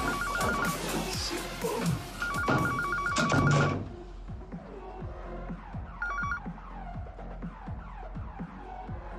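A telephone bell rings in repeated electronic trills, two bursts near together then a fainter one after a pause, over a low hum and rhythmic background throbbing.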